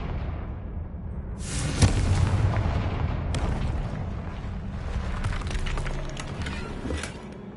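A Confringo spell in a Hogwarts game blasts through a barrier with a loud, booming burst that rolls into a sustained crackling rumble of debris and fire, dense and close, lasting several seconds.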